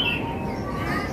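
A cucak ijo songbird at a bird market chirping with short, thin high calls over a low background murmur, fairly faint and close.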